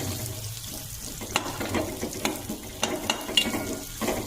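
Roasted peanuts are added to a pan for sabudana khichadi, with a light sizzle broken by a run of sharp scraping and tapping stirring strokes, fairly close and moderately quiet.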